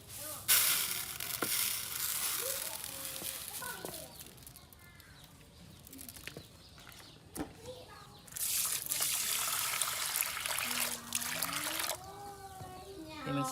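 Glutinous rice from the Jarai people, rubbed and washed by hand in water, with splashing and swishing that come and go in bursts, speech woven through the clip.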